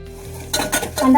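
Chopped onion goes into very hot oil in a pan and is stirred, with a few metallic scrapes and clinks of the utensil against the pan over a faint sizzle, heard briefly and up close.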